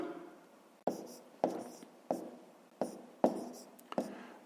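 A pen writes on paper during a fifth-grade math exercise, six short scratchy strokes, each starting with a tap and trailing off, spaced about half a second to a second apart, close and quiet.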